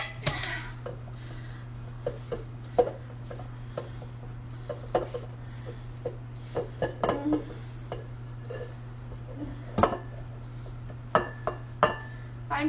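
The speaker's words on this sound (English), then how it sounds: "I'm just scraping the peanut butter stuff to get down" Spoon scraping a sticky peanut butter mixture around a bowl for buckeye candy, giving repeated soft scrapes and light clinks against the bowl, close and intermittent over a steady low hum.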